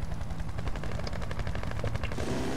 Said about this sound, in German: Passt auf, der Heli ist wieder da.